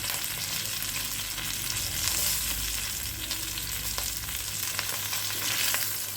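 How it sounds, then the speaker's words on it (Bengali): Shol fish frying in a pan gives a steady, loud sizzle with crackling oil spitting throughout, close up and with no voices. "লাস্টলি আমি মাথা আর এটা ভেজে সম্পূর্ণ মাছটা ভেজে নিলাম।"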